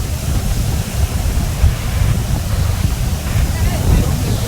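Strong wind buffets the microphone at the Porbandar Chowpatty seashore, a constant loud roar blended with crashing surf, steady throughout without a break.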